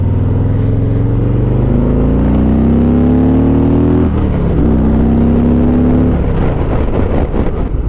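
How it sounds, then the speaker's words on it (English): Stock-exhaust Harley-Davidson Ultra Limited heavy touring motorcycle engine under way, a loud continuous droning rumble rising in pitch with acceleration, dropping at a shift around four seconds, then climbing again before easing off. "These are obviously stock pipes because it's a stock demo bike."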